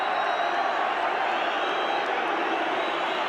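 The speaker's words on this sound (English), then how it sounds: "a few of the crowd are booing" Football crowd at a Tottenham versus Nottingham Forest match, a steady broad roar of massed voices that holds constant and fairly loud throughout, with no individual words standing out.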